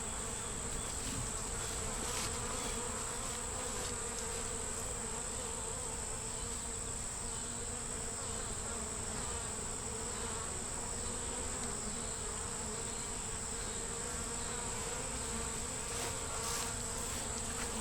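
Honey bees buzz steadily and densely around a hive kept with a blue-marked queen, a continuous close swarm drone with a high whine running throughout, no voices.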